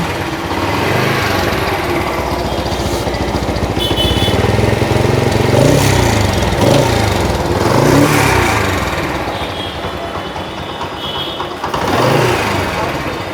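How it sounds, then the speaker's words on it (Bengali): A restored Dayang 80 cc motorcycle, modified to a classic style, runs close by with a loud, steady engine drone and some uneven revving through the middle; someone talks briefly over it. "আমি যদি এখন একটু সাউন্ডটা আপনাদেরকে শোনাই বাইকের"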